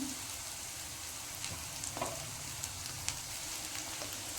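Gravy with capsicum frying in a pan for gobi fried rice, a soft, steady crackling sizzle with a few faint spoon scrapes and pops, quiet and close.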